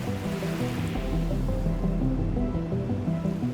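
Steady ocean surf rolling continuously with a broad, even wash, no voices.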